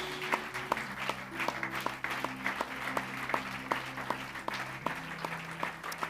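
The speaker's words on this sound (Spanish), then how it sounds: "Poder levantar nuestras manos y aplaudir al Señor esta tarde." A church congregation claps in steady, rhythmic unison, each clap sharp and evenly spaced. Sustained organ or keyboard tones run underneath.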